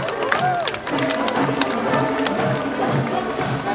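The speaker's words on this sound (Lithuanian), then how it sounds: "Plojimai svečiams." A crowd claps and cheers for visiting guests at an outdoor border festival, steady dense applause filling the whole stretch at close range.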